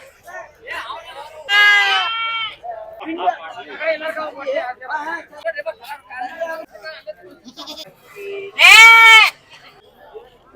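Sheep bleat loudly twice, a few seconds apart, amid steady chatter of people at the busy Hubballi APMC livestock market.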